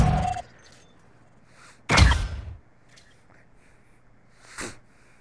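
Gunfire in the Warzone 2.0 video game: one loud close burst near the two-second mark, a fainter shot later on, and sharp noise at the start, all over a quiet background hum, with nobody speaking.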